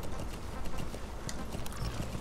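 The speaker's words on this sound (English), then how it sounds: "just a regular old battle horse" A battle horse gallops in Metal Gear Solid 5, its hooves clip-clopping in a steady, fairly close rhythm over a dense bed of game ambience.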